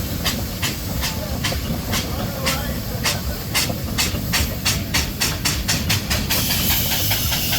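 Steady loud hiss of a 4-inch scale steam engine at a steam rally parade, with rhythmic chuffing bursts that quicken toward the end, nearby and continuous, with faint voices underneath.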